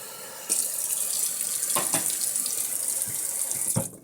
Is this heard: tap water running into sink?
yes